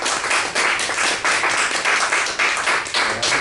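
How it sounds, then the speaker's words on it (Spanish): A seated crowd at a casual Spanish talk claps loudly and close by, uneven bursts of hands that pulse and swell in short waves, with no talking over them. "Fuerte aplauso primero para Elena"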